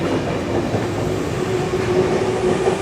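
A T10 tram pulls into its terminus stop in Île-de-France with a steady, loud rolling rumble and a faint high wheel squeal, and no voices.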